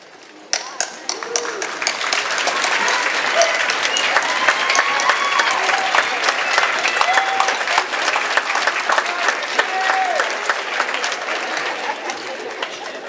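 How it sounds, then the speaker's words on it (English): Sustained audience applause at a college commencement ceremony, a large crowd clapping steadily and loudly for over ten seconds, with scattered voices and cheers mixed in. "round of applause."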